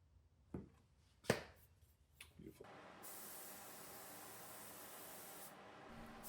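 Steady spray-gun hiss applying finish to a handmade guitar body, running continuously for several seconds after a few short taps and knocks, close and moderately loud.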